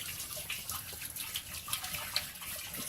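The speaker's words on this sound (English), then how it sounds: "So I'm just going to pour this water down in there." Water mixed with a little vinegar and oil is poured down a dry basement floor drain, giving a continuous splashing trickle with small gurgles, close by and with no voices.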